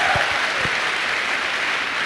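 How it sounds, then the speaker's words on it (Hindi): Applause from an audience at a speaking event, a dense steady wash of clapping throughout, fairly loud and close, with a couple of low thumps near the start. "मैं चाहूँगा उनके लिए एक बार जोरदार तालियां हो"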